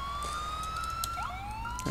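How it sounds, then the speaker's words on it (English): A wailing emergency siren sweeps up and down steadily, loud and close, over a low engine rumble with no talking, from a fire or medic vehicle in GTA IV. "we can turn off our sirens"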